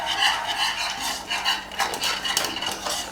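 Close, brisk scraping and swishing of a whisk against a pan of chocobar ice cream mixture on the stove, rhythmic and continuous, with no talking.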